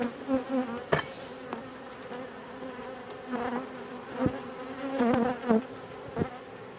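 A dense, steady buzz of many honeybees close up in an opened hive during varroa treatment, with occasional sharper clicks and knocks breaking through the drone.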